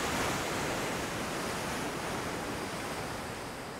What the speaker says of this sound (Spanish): El silencio del mar es mera apariencia.